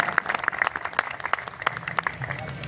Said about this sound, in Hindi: जरा हाथ उठाकर ताली बजाइए आप